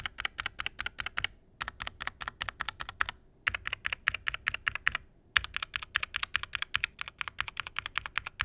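Rapid typing on a Wooting 60HE+ keyboard fitted with its stock keycaps: dense, steady bursts of close clicky keystrokes with two brief pauses, no talk.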